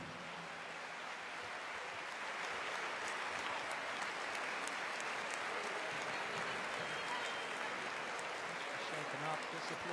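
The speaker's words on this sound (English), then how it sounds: "This applause of the crowd as he leaves the game." A basketball arena crowd applauds as an injured player leaves the game during a Champions League match, a dense sustained roar of clapping heard at a distance, with a commentator talking over it.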